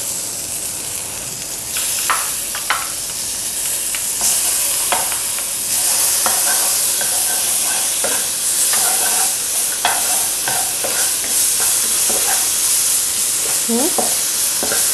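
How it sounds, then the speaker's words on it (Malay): Ingredients for Lo Han Jai stir-fried in a wok: loud, continuous sizzling and frying with repeated scraping and clattering of the stirring utensil against the pan, close up and alone, with no talk. "Lepas tu kita goreng, masukkan dalam kuali lah. Okey, goreng sampai wangi."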